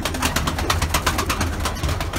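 Pigeons coo near a pair of chicks in a nest, a soft, steady stream of low calls in a cluster of repeated pulses, close by and fairly loud, with no talk over them.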